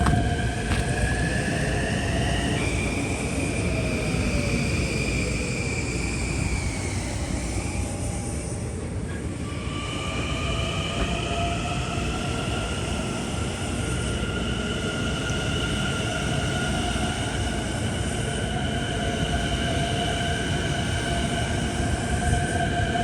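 A Long Island Rail Road train rumbles past the Pond Road crossing steadily and loudly for a long stretch, with sustained whining and screeching tones from the wheels and rails riding over the roar.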